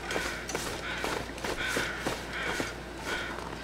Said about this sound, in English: Oh yeah, I hear the birds.